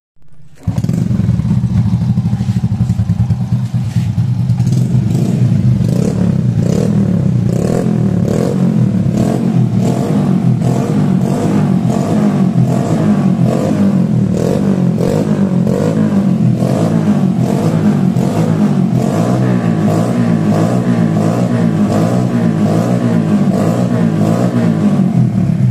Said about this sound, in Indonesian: ini saya contoh knalpot racing pada motor Astrea Grand saya ya